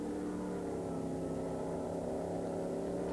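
Historic racing cars at Spa-Francorchamps, Porsche Cup machinery, roar steadily in a continuous loud engine drone with layered harmonic tones, no voices.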